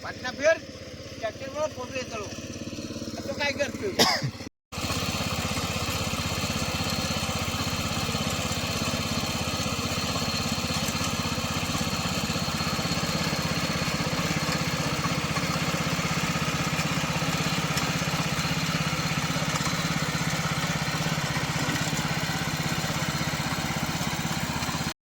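A power tiller engine runs on a Konkan village farm, a loud, steady, close mechanical drone that continues unbroken for about twenty seconds after a short burst of voices and handling noise at the start.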